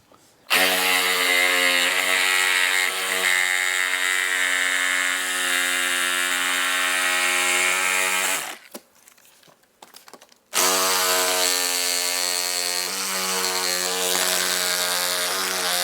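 A power tool cuts through a speaker opening in a Harley Davidson motorcycle bag, a loud steady high-pitched whine that runs for about eight seconds, drops away briefly, then resumes just as strongly.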